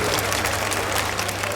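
A crowd of children at a carnival for young cancer patients claps together in dense, steady applause, loud and close, filling the whole brief moment.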